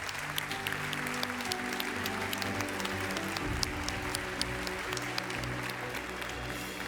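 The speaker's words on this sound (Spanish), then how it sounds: "un aplauso para él" Steady applause from an audience at a closing ceremony of an international university rectors' meeting, dense clapping at an even level that carries on without pause.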